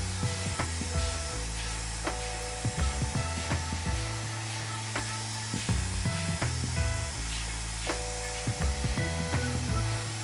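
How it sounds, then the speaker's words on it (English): A hair dryer blows continuously, its steady rushing hum shifting slightly as it sweeps back and forth across the hair, with faint clicks and handling noises from brushing and styling. "Blow drying across the head shape back and forth will allow us to break down any undesirable movements"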